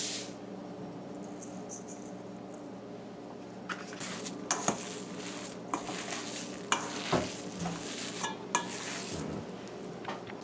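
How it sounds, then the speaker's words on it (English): Roasted ground jeera and salt being stirred into ground dal in a bowl, a steady scraping mix with sharper clinks and knocks toward the end, close and alone. "all you want to do is mix in your roasted ground jeera and your salt in there"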